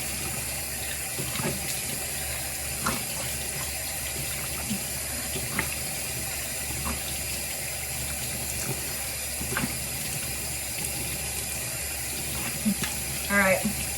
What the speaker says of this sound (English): So let's rinse.